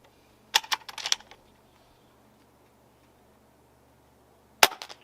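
A Gamo Arrow .22 airgun fires with a crisp snap followed by rapid mechanical ticks and rattles, then a second sharp shot several seconds later, with quiet between them.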